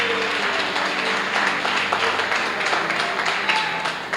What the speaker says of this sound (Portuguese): Aplauda ao Senhor mesmo, aplauda ao Senhor